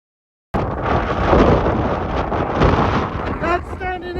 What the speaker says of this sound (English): The wind's got to be at least 50 miles an hour.